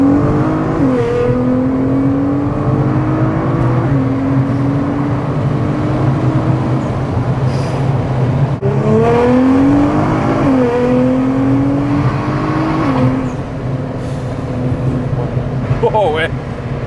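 An 800 hp Nissan GTR accelerating hard, its engine note climbing in steady sweeps and dropping at each quick gear shift, loud and continuous from inside the car while people talk over it.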